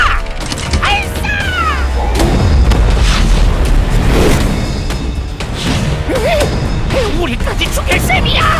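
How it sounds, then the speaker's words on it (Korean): Cannon bombardment fires in Seven Knights 2, with dense booming blasts, crashes and whooshes running continuously under shouting voices and game music throughout. "포격을 준비해라!"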